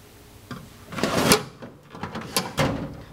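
A Craftsman metal tool box drawer without ball bearings is pulled open and pushed, giving a few scraping, rattling slides and clunks close up, with no talking.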